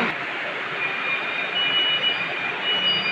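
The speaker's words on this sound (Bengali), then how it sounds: "এই যে মেট্রো পাইলট চালালো এখন ওই সাইডে, এখন এই সাইড দিয়ে বেরে এই সাইডে গেল।" A Kolkata metro train rolls along the track with a steady, broad rumble and a faint high whine, with no voices heard.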